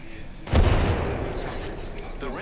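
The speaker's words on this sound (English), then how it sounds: "Oh, grenade." A grenade goes off in a video game, a sudden deep boom that swells and then rumbles on as a long fading roar, loud and close.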